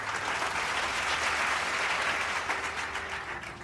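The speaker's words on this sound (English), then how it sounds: "Let's give Ruth a round of applause for 15 years of service." Steady applause from a gathered audience at a years of service celebration, honoring fifteen years of service, dense and even throughout, moderately loud, with no talking over it.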